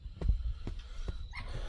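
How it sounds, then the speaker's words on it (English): A Cane Corso dog lets out a soft, brief whimper after a few dull thumps, close by and fairly quiet. "One of my favorite type of dog, Cane Corso, man."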